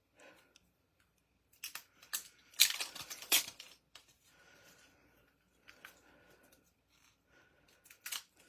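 Scissors cut open a preorder package, with a few scattered snips, crinkles and rustles of packaging, close by and alone, separated by quiet gaps.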